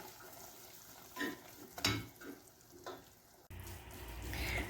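Flour stirred into melted butter in a pot for a Turkish milk pudding, giving soft scraping strokes and light sizzling at close range, with brief louder swishes and a steadier frying hiss toward the end.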